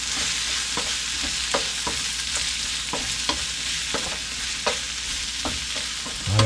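Fresh porcini mushrooms frying in a pan, a continuous hiss of sizzling oil broken by regular spatula taps and scrapes as they are stirred, close up and with no voices.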